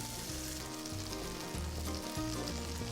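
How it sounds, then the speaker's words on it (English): Oil and butter frying in a hot pan as the base for a beef stroganoff sauce, a steady, close, loud sizzle with crackling pops running throughout and no talk. "Keep the pan nice and hot, and I'm going to put in some more oil and butter"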